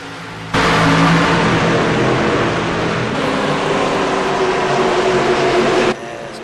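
Busch Series stock cars race in a video game at Phoenix, their engines roaring loud and continuous for about five seconds before the sound cuts back.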